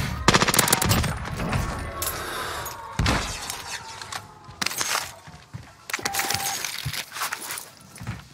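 Rapid bursts of automatic gunfire from a shooter video game, loud and close, coming in several separate strings with short pauses between them, mixed with sharp cracks and shattering impacts.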